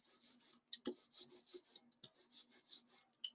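A rubber ink roller rolls block printing ink across an inking surface, producing a sticky, crackling rasp in quick repeated strokes, close and quiet, with no talking.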